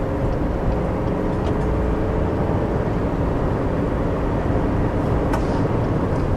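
Interior drone of a 2020 GMC Sierra 3500 Denali one-ton pickup with a Duramax diesel as it accelerates hard to pass, a steady dense low rumble holding for several seconds with no voices.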